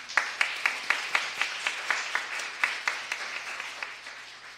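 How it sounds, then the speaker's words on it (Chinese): Congregation at a Taiwanese Presbyterian church service applauding a returning mother and son, a steady round of many hands clapping in a reverberant hall, with evenly spaced louder claps standing out and the applause slowly fading. "我们掌声欢迎他们。"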